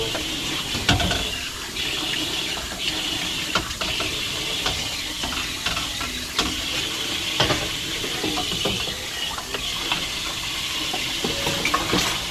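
Tap water runs steadily into a kitchen sink during dishwashing, a continuous close splashing wash dotted with faint clinks of dishes being handled.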